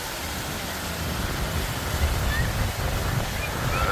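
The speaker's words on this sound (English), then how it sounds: "You hear that wind?" Wind blowing at the highest point of the San Diego Zoo sky ride, a steady broadband rush with buffeting gusts against the microphone, fairly loud and continuous throughout.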